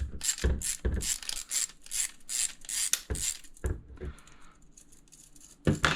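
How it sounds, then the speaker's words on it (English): A ratchet socket wrench clicks in quick bursts while backing bolts out of alpine ski touring adapters, close and crisp, followed by a brief scraping rub and a final sharp clatter. "I will use a socket wrench here, 9/32 or 7mm, I believe"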